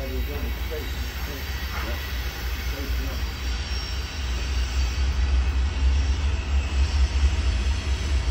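A northbound freight train pulls in at Bristol, heard as a steady low rumble and hiss that swells slowly, with a brief voice near the start.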